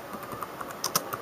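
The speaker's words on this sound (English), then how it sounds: "oh, I missed the letter in fastboot. So it's fastboot flash" Quick, light keystrokes on a computer keyboard while entering a fastboot command, about a dozen clicks in an uneven rhythm, close and clear with no talking.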